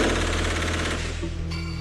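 An assault rifle fires rapid automatic gunfire that rattles in a dense, continuous burst, loud and close, then cuts off into a lingering mechanical hum; recorded during a robbery in Campinas, São Paulo.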